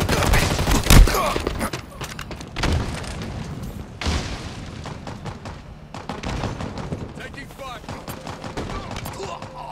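In Halo Infinite, a frag grenade detonates with a heavy boom amid a dense exchange of rapid gunfire and repeated blasts in a big team battle, with brief in-game voice callouts.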